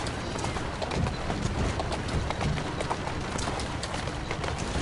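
Horse hooves clip-clopping steadily in a video game, a continuous busy patter of hoofbeats pulling a coach, fairly loud and close throughout.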